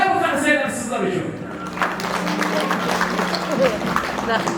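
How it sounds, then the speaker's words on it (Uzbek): Applause and clapping from family members at a grandmother's birthday celebration, a brief burst of claps mixed with loud overlapping talk in a lively room. "Mana bu qarsaklar sizlar uchun."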